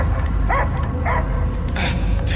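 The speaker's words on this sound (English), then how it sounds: "I hear only barking." A dog in the video game Guardians of the Galaxy gives a few short, yipping barks over a loud, dense game soundscape, the calls spaced about half a second apart.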